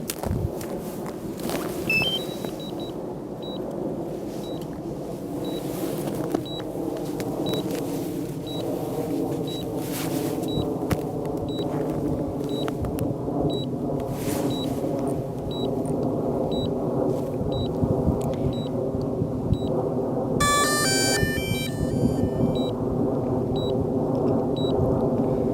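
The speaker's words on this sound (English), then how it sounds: "Now we'll turn the drone on and see what happens." A DJI Mavic Air drone powering on, giving evenly spaced high electronic beeps over a steady low hum and rumble, with a brief cluster of rising tones near the end; no speech.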